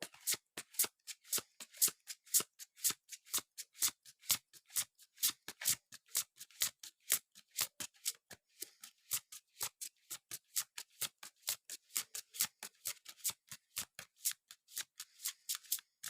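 A large tarot deck is shuffled in two halves, giving a fast, steady stream of crisp riffling card snaps, close and even-paced throughout, with no talk.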